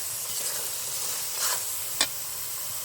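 Spices sautéing in oil in a pan for egg biryani, a steady close sizzle with a brief stirring swell and one sharp scrape of a spatula.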